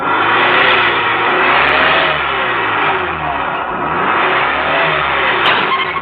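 A car engine revs hard in a steady, loud roar after being pushed along a rural road, holding high revs for several seconds with slight dips and surges.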